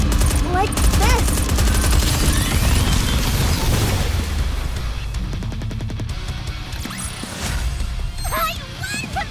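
A squad volley in Goddess of Victory: NIKKE, Campaign Chapter 19 (Eden): dense, overlapping rifle and machine-gun fire with a few booms, loud at first and thinning slightly later, under short in-game voice lines.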